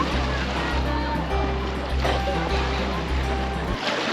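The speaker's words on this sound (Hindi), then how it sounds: "वेव्स ऐसे आ रही हैं जैसे कि कोई सी हो" Waves on a clear lake slap against a kayak in a steady choppy wash, with low rumbling bumps under it and no voices.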